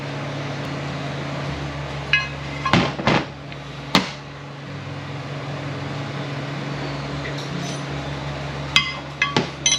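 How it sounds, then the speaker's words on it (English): A hammer stakes a bushing in place during a 48RE transmission rebuild, landing several sharp metallic strikes spaced a second or more apart over a steady background hum, with a final hit near the end. "stake our bushing in place."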